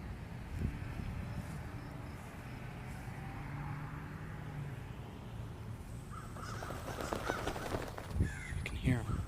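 Crows cawing outdoors, a few harsh calls rising over steady wind and ground noise toward the end, with people talking nearby as they walk.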